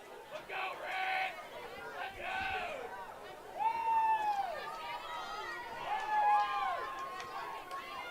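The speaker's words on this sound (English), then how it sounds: "Crowd's getting riled up." Crowd at a high-school varsity football game between Hicksville and Fairview, a steady murmur of cheering and chatter that swells with shouts and whistles rising and falling across the stretch.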